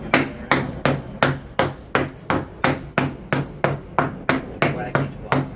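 A mallet strikes wooden blocks in a steady, rapid series of sharp knocks, about two per second, close and loud with no talking.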